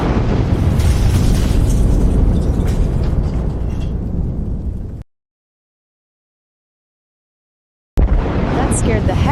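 An AI-generated explosion visual effect carries a loud, deep rumbling blast that runs for about five seconds, cuts to silence and then returns briefly.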